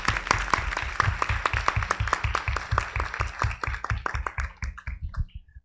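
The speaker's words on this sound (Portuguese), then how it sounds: "eu queria sugerir uma salva de palmas para o programa e para os demais profs" A small audience at a university council session applauds the mathematics graduate program, with steady rhythmic claps that thin out and fade toward the end.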